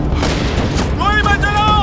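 Gunfire in a Hindi-dubbed Hollywood battle film: loud, dense booming shots filling the mix, with voices and tonal cries rising over the blasts toward the end.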